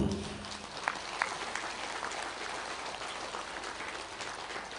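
An audience at a Bhagavad Gita spiritual discourse claps in a soft, continuous patter, fairly distant and quiet, with a couple of sharper claps standing out early on.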